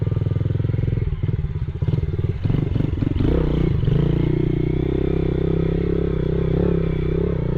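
A motorcycle climbs a washed-out dirt track near Chinchilla, Queensland, its engine loud and close with a steady drone, rising revs, and clattering, scraping thumps as it crawls over the rough ground.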